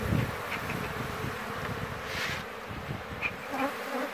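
Honey bees buzz around an open beehive during beekeeping work, a soft, continuous drone of many insects close by with small swells in intensity.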